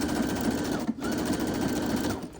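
Sewing machine stitching the seam of a fabric scrunchie, a close, steady mechanical whir with a fast needle rhythm that pauses briefly once and then resumes at an even speed.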